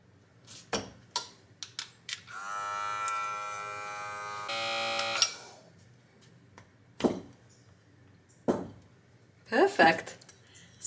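A vacuum sealer runs a steady, buzzing pump hum for about three seconds, then changes tone briefly as it seals bags of freeze-dried tomato with oxygen absorbers, with sparse handling clatter around it.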